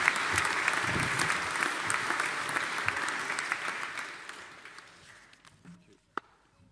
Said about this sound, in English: let's give the class of 2024 a big round of applause